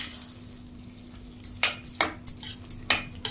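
Spoon stirring tempered chana dal and bottle gourd curry in a pot, a series of sharp metallic clinks and scrapes in irregular rhythm, close and moderately loud after a quiet start.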